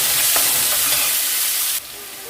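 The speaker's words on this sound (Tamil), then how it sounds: "இப்போ ஒரு மீடியம் சைஸ் வெங்காயத்தை நல்லா சின்ன கட் பண்ணி அதை இதில் ஆட் பண்ணுவேன்" A medium onion, finely chopped, hits a hot pan for crab thokku, producing a loud, close, bright frying hiss that drops suddenly to a softer sizzle after a couple of seconds.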